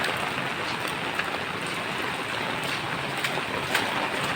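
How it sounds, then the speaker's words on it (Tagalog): Heavy rain pouring without pause on a flooded street, a dense continuous hiss of falling water with scattered brighter drips and splashes. "Wala pa rin tigil ang ulan guys."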